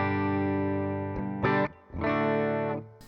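Electric guitar played through a Fender Super Sonic 22 head on its clean vintage channel in the normal setting, a few sustained strummed chords ringing out with brief gaps between them.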